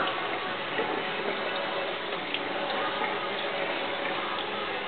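Water runs steadily from a tap as a baby is washed in a sink, a continuous close hiss of flowing water with faint splashes and no talking.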